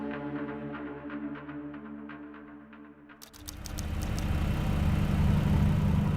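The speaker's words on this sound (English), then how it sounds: "Every so often, the low hum of the diesel engine pulses through the hull as it pushes them forward at 16 kilometers per hour" Low diesel engine hum from a narco submarine pushing through the sea, a steady throbbing drone that shifts partway through into a louder, broader rumble with faint rhythmic pulsing, no talking.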